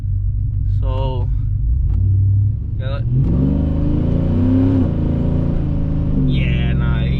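Custom Chevrolet TrailBlazer SS engine revving while driving, a loud steady rumble that climbs and falls in pitch, with someone talking over it in short bursts.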